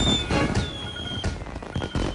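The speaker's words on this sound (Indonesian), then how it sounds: "Oh, kembang api." Cartoon fireworks in a Tobot animated episode burst three or four times in quick succession, with short whistling streaks between the crackling pops and a busy, loud mix.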